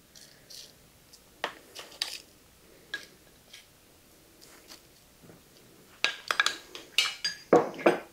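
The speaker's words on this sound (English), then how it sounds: "What I'm doing is I'm just going around in a circle and I'm dragging the spoon through" A spoon dragged in slow circles through a cinnamon mixture in a pan while making cinnamon sweet bread, giving scattered soft scrapes and light metallic clinks that grow louder and busier toward the end.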